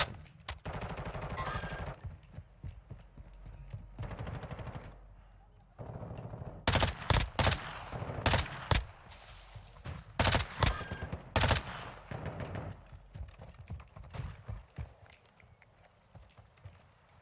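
Sharp, loud gunshots and rapid bursts from Call of Duty DMZ crack in clusters, some rattling like automatic fire, separated by quieter gaps with background game sound.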